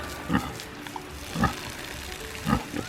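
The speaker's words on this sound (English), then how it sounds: "We're just watering down the pigs." Pigs grunt and oink in three short, evenly spaced bursts, fairly close, while being watered in a muddy puddle at a farm pen, over a steady outdoor background.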